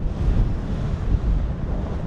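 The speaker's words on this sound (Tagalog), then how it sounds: "pero ang lakas ng hangin ngayon" Strong wind on Mount Panorama, Australia, buffets the microphone with a steady, heavy low rumble and roar, loud and continuous with no voices.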